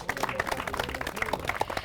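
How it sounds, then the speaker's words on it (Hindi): An audience applauds farmers honoured at a rural quiz event in Udaipur, Rajasthan, a steady patter of many hands clapping with some indistinct voices mixed in. "जोरदार तालियां हो जाए इनके लिए"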